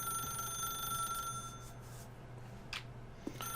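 A telephone in The Stanley Parable: Ultra Deluxe video game rings with a steady electronic bell tone. It is heard faintly over quiet room ambience, with a couple of small clicks near the end.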